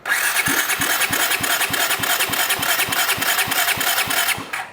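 A Honda motorcycle engine cranks over on the starter during a compression test, a loud close mechanical whir with steady rhythmic compression pulses roughly every third of a second, stopping abruptly at the end.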